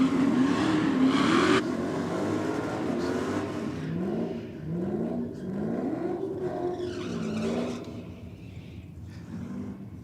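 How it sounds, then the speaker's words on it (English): A 1957 Chevrolet race car does a burnout at the drag strip, its loud engine revving in rising and falling waves with tire squeal throughout, the roar strongest at the start and easing slightly toward the end. "the 57 Chevrolet, well, he's got him on the burnout"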